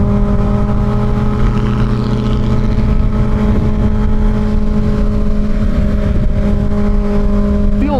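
A Kawasaki Ninja ZX6R 636 middleweight sport bike is ridden on a test ride, its engine holding a loud, steady, close-up drone with slight shifts in pitch and constant wind rush.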